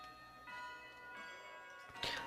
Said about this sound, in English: The bell for break rang.